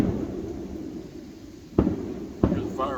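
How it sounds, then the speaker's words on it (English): Fireworks bang outside in two sharp, separate pops over a steady low rumble of background noise, fairly distant rather than close. "There's fireworks going on."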